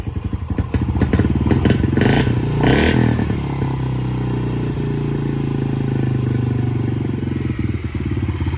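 A Yamaha TTR 50 motorcycle engine settling back to idle after a carburetor screw adjustment, close and loud, with a brief rev and clatter near the start before a steady, even putter.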